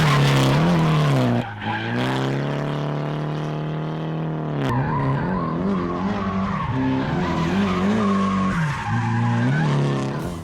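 A low-horsepower drift car held at full throttle, its engine droning loud and close with a wavering pitch that dips and climbs through the slide, over a constant hiss of skidding tires.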